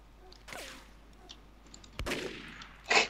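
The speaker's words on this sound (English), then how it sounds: "Just keep shooting." Gunfire in the online shooter MicroVolts, a few sharp isolated shots with short decays spread across a quiet background, the last one loudest.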